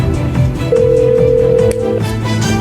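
A telephone ring tone sounds on a call to a voter, a steady electronic tone lasting about a second against a murky line background.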